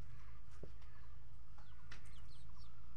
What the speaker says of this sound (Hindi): हमारी मम्मी के घर में ऐसे मुर्गियां है ज़्यादातर